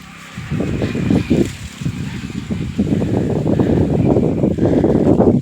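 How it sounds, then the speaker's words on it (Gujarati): Strong summer storm wind roars through a mango orchard on a farm in heavy, gusting bursts, buffeting the microphone with a deep, rumbling rush that grows steadier toward the end. "અત્યારે વાવાઝોડું છે"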